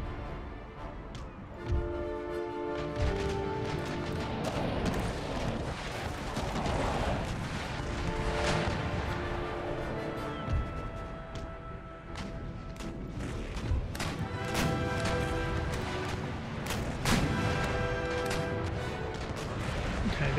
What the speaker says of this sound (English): unload another broadside into the side of the war galleon